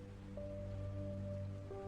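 Steady rain falling on a stormy night: a continuous soft hiss of drops that fills the whole moment, with low sustained droning tones running beneath it and no voices.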